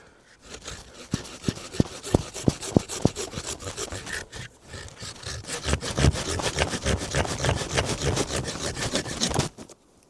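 Hand saw cutting apple tree branches during winter pruning, with a run of sharp rhythmic rasping strokes that speed into fast continuous sawing before stopping abruptly near the end.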